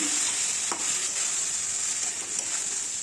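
Broken wheat dalia and fried onions sizzle in a pan, a constant near hiss broken by a few soft stirring scrapes, without talk.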